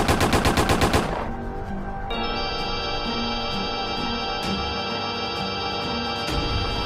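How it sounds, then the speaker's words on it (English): Rapid bursts of gunfire from a logo parody, a dense loud volley in the first second, then a sustained ringing musical tone with scattered sharp hits and a final shot near the end. "Oh my god, we shot Alexis 20 times"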